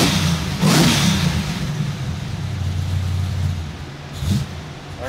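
A supercharged big-block engine in a Ford Crown revs nearby with a deep, rumbling idle, one sharp rev early on and a shorter blip near the end.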